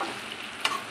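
Veg pasta with masala sizzles in a pan over a high flame as it is stirred, a steady close frying hiss with a quick scrape of the spatula near the end.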